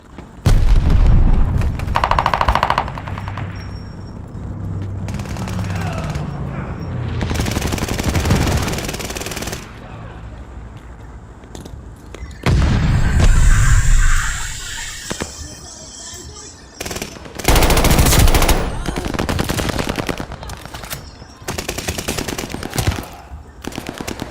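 Machine gun fire from an aerial strafe in a video game: loud, rapid bursts of automatic fire separated by short pauses, with heavy booms and rumbling impacts.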